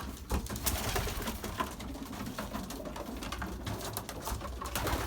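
Belgian racing pigeons coo inside their loft, soft repeated low coos overlapping against a faint background, with occasional light rustles and wing flutters nearby.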